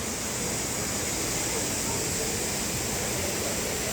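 Chet Sao Noi Waterfall in Saraburi, Thailand, at its second tier, pours in a steady, dense roar of falling water that stays constant and close throughout with no break.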